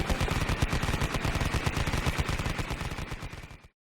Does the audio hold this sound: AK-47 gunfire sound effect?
yes